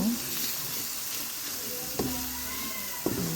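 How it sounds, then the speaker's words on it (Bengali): Fish curry with ridge gourd, chili powder and coriander powder is stirred in a pan, giving a steady sizzle with a couple of sharp spoon knocks against the pan and a low voice faintly underneath. "এখন সব উপকরণগুলো ভালো করে নাড়িয়ে নেব।"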